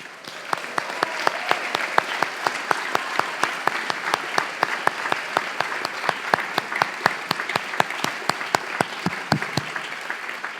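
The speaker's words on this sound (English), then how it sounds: "let me ask you to join me in a round of grateful applause for those other graduates," Graduation-ceremony applause for parents and families at The Pingry School, a large crowd clapping steadily for ten seconds, dense and even, with crisp individual claps popping out above the broad wash.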